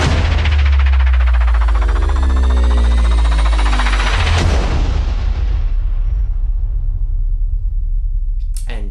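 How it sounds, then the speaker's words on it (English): A soft cinematic boom downer effect for trailer music, a deep low rumble that swells, hits again near the middle and slowly fades out, loud and alone with no talking. "the other little thingy here, which is a downer, basically it creates like a boom type of sound"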